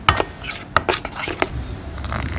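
Paprika, salt, pepper and baking powder being mixed into a fish batter, with a run of sharp utensil clicks and scrapes against a bowl, then a steadier stirring rustle, close and alone.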